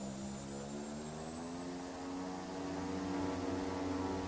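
Steady propeller and engine drone from an Azurpoly Bronco propeller aircraft taxiing in a flight simulator game, a continuous tonal hum that swells slightly louder toward the end, with no talking.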